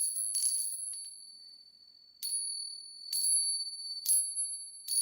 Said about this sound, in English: it's actually they're called tincture bells